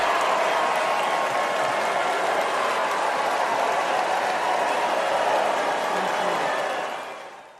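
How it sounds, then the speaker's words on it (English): A large convention crowd at the Republican National Convention in Milwaukee roars steadily with dense cheering and clapping, a broad sustained wash that fades out at the end; the boos are not distinguishable within the noise. "She was greeted by cheers and some boos from the convention crowd as she stepped up to the microphone"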